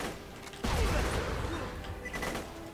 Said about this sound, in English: Magic missile. Try not to get watched the pointy bits. Magic missile.